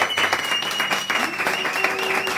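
Audience applause for a band on a talk show set, brisk dense clapping up close with a faint tonal hum beneath and a brief voice sliding through.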